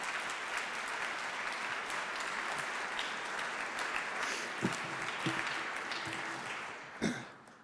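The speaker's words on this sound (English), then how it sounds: "Let's give another round of applause." Another round of audience applause at a mental health and addiction event, steady and fairly distant, continuous dense clapping that thins toward the end with a few sharper individual claps.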